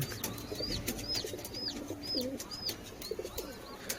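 Pigeons coo in a repeated, evenly spaced series of soft rolling calls, close by, with sharper bird chirps overhead and no talking.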